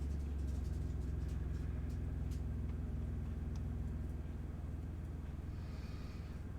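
A pizza delivery driver's car engine rumbles low and steady close by, a continuous deep drone that slowly fades slightly toward the end, with no talk over it.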